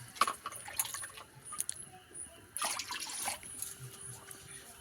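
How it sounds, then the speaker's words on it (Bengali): Water splashes and trickles into a pot with faint clinks of metal and glass, close and fairly quiet, as it's added for making puli pitha dough. "তো জল দিয়ে দেব"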